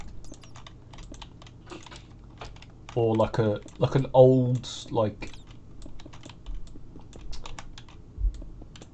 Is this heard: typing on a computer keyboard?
yes